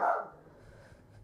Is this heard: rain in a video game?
no